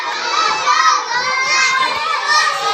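A group of schoolchildren at an Islamic school Quran completion event shouting together loudly and continuously, a dense, close crowd of young voices.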